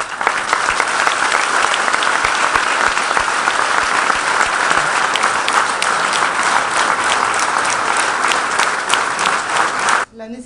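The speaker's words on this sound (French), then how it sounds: "et que j'aimerais qu'on applaudisse." An audience at a Légion d'honneur ceremony bursts into loud, sustained applause, dense clapping from a large crowd filling the room for about ten seconds before cutting off abruptly.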